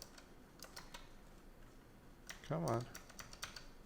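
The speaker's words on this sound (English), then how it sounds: "I don't know why I'm typing df and then hitting tab and it's doing an equals" Computer keyboard typing during a live Databricks coding and debugging session, scattered key clicks with a short louder burst near the end, heard beneath brief speech.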